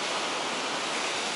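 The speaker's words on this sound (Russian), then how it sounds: "А сейчас эта белая пена и большие волны выглядят очень чисто." Large winter sea waves with white foam roll in steadily as a broad, continuous roar of surf, loud and unbroken with no voices, on a stormy shore at Kuchugury.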